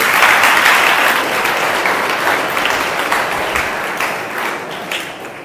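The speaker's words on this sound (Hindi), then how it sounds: "ताली तो बजा दो भाई।" Audience applause at a children's class gathering, a dense wash of clapping that starts loud and full and slowly thins and fades, with no talking over it.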